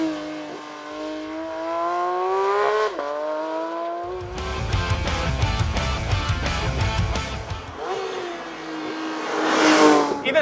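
A 2022 Porsche 911 GT3 is being driven hard. Its engine climbs in pitch and then drops, with a burst of rough, broadband noise in the middle before it revs up again, ending in a loud high-rpm surge.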